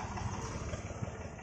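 A tractor with a rotavator attached pulling away from a peanut field, its engine a steady low chugging rumble at moderate distance, continuous and without talk.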